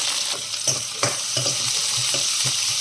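Mustard seeds, cumin, urad dal, onions and chilies fry in hot oil for a bottle gourd masala curry, giving a steady loud sizzle with regular stirring taps from a spoon against the pan.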